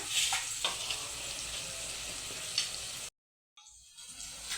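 Mutton keema frying in a pan, a bright continuous hiss and crackle up close that cuts out abruptly for a moment before the sizzle resumes, no talking.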